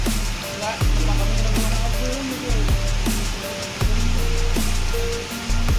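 Steady rain pours down at the Muara Bungo bus terminal in Sumatra around a Jetbus 3 Voyager coach, a dense continuous hiss with a low engine-like hum underneath and brief surges in loudness.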